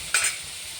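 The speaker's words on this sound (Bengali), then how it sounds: "তো আমি এখন আলুগুলোকে লাল লাল করে ভেজে নেব" Fish and potatoes frying in oil, a brief bright sizzling hiss swelling for a moment, then a steady low frying hiss.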